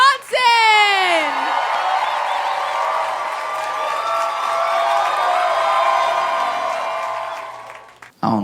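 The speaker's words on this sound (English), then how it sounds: "Y'all start clapping right now. Give it up for Josh Johnson." A comedy club audience cheers, whoops and applauds for comedian Josh Johnson, with a loud, sustained wall of clapping and shouts and a host's voice rising over it at the start, fading near the end.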